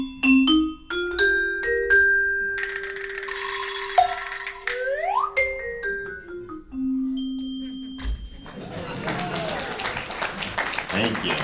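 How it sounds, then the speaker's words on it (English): Silly percussion motif for a comic detective character, played live by a percussion ensemble in a children's story concert: tuned pitched notes, sliding whistle-like glides and rattling ratchet clicks, ending in a burst of audience applause. "So Detective McSmog's motif sounds like this"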